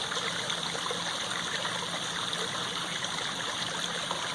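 Backyard garden waterfall splashing and trickling steadily into a pond, a constant close wash of falling water with no voices.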